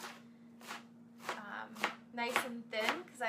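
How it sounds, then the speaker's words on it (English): A ceramic knife chopping salad greens into thin strips on a board, a steady run of about seven crisp close cuts, each a sharp slicing thump, over a faint low hum. "I like a ceramic knife for chopping greens"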